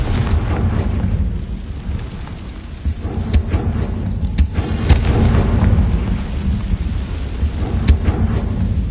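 A fiery Confringo spell blast in the Hogwarts Legacy game: a loud, sustained rumbling explosion with rolling boom and crackle, punctuated by a few sharper bursts throughout.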